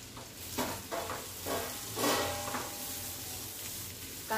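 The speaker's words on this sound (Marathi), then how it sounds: "लसूण आपण 1-2 मिनिटं परतवून घेतलेली आहे बटर मध्ये" Garlic sautés gently in butter in a pan, a soft low sizzle with a few light stirring scrapes, quiet and close with no talk.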